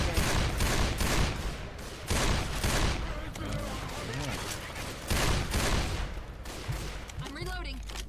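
Bursts of gunfire in a shooter video game, repeated loud volleys and rattling shots in uneven clusters, with players talking over the action and some electronic game effects between bursts.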